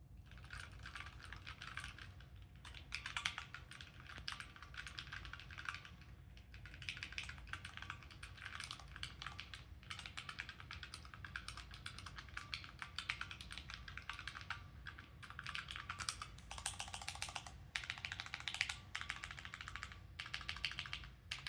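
Steady typing on a Naya Create computer keyboard, with rapid close key clicks and taps running continuously over a low background hum, no voices.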